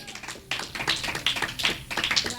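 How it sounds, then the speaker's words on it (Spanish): A church congregation claps hands together in rhythmic bursts during a Spanish-language Christian service, many hands clapping loudly and close in a steady pulsing pattern. "dele fuerte palmas al Rey de Reyes"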